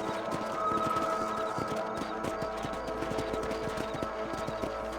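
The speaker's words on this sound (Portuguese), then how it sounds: "fazendo uma rondinha com o cavalo" Horse hooves trot in a steady clip-clop rhythm across a Red Dead Redemption game landscape, fairly close and continuous over a dense bed of ambient game sound, with no talk.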